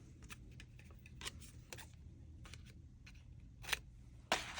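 Scissors snip through a strip of gold cardstock in a quiet room, giving a series of short crisp cuts at an uneven pace, with two sharper snaps toward the end.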